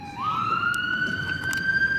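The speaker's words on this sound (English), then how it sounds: "there's an ambulance that's driving by" An ambulance siren passes nearby, one continuous rising wail that holds steady, fairly loud over faint street background.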